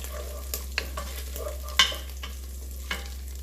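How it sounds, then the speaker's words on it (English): Chorizo sizzles as it is stirred in a pot, with several sharp scraping and spoon clacks over a steady low hum, fairly quiet and close with no voices. "I'm gonna put in my chorizo. Okay, just dump that in there. Mix that around."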